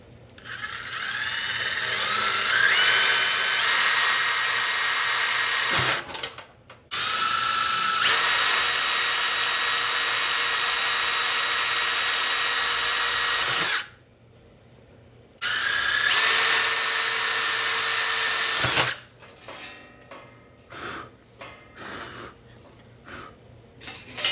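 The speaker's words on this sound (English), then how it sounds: "we got the pilot holes drilled" Power drill with a 1/16-inch bit drilling pilot holes, whirring in several long bursts, loud and close, with pitch shifts as it bites, separated by short pauses and ending in brief clicks and handling.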